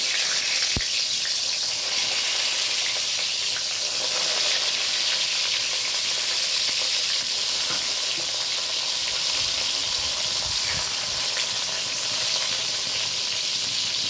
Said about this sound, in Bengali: এবার আমি বেগুনগুলো ছেড়ে দেবো